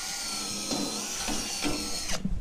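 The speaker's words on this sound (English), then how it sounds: "I'm probably just gonna have to drill with the big drill bit" A power drill whines steadily at close range, with its pitch dipping in a few short bursts as the bit bites, then cutting off abruptly.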